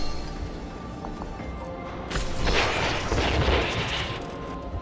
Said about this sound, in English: Oh, look at that. And them explosions.